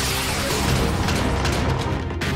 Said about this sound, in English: Laser, fire!